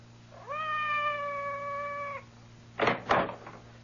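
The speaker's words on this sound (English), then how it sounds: "It sounded like Madame's cat, Francois." A domestic cat meows once in a long, drawn-out cry outside a door in a radio drama effect, followed after a pause by two sharp knocks or thumps against the door, heard close and alone.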